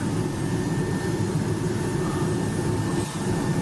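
A helicopter flies over an isolated flood-evacuee area in Tapanuli Tengah, making a loud, steady rotor and engine drone that holds without a break for the whole stretch.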